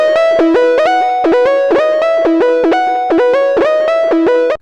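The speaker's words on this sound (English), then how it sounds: "Versus if I put this distortion before the delay and reverb." A distorted Serum synth lead with distortion placed before delay and reverb plays a bright, buzzy repeating melodic pattern of short stepped notes, loud and alone, cutting off abruptly at the end.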